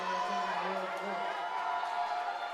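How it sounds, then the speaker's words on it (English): Roller derby crowd in an arena, a steady wash of cheering and murmur rising for a jammer, heard at a distance beneath an announcer's commentary. "You're hearing the crowd get a little hype for Chameleon."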